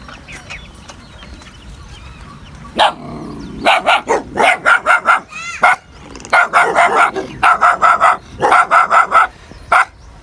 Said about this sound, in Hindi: ये देखें जी घर में इन्होंने कुत्ता पाल रखा है, बड़ा शरारती है और बड़ा तेज है।